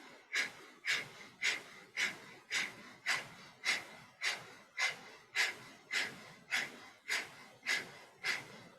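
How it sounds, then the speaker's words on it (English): Breath of fire during a yoga class: a steady, rapid run of about sixteen sharp forced exhalations through the nose, evenly paced and close, with no talking. "take a few breaths and then do breath of fire"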